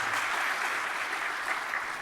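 Steady applause from an audience at a hospital pharmacists' conference on AI, dense and even clapping filling the room throughout.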